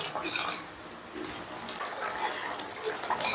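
Katla fish curry gravy boiling in a pan over a gas flame to thicken: a soft, continuous bubbling and watery sizzle, close by, with a voice talking over it.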